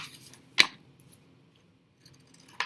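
Scissors cutting folded paper during an elementary art lesson, one sharp close snip and then a fainter one near the end, separated by a quiet stretch.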